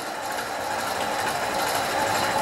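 Epicyclic gear train test rig running at reduced input speed, giving a steady, buzzing mechanical whir with a fine rapid texture, continuous and moderately loud with no talk.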